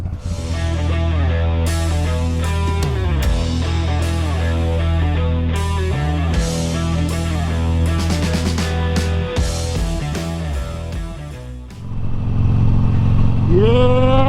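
A 2006 Harley-Davidson Sportster 883 rides loud and close, its engine rumbling and rising and falling through gear changes, with a brief dip in level before the throttle picks up again.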